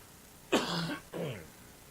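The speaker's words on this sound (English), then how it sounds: "Excuse me for all the coughing, y'all." Two harsh coughs close to the microphone, one right after the other, with no talking.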